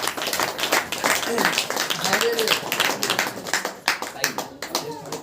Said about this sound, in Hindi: ताली बजाकर परमेश्वर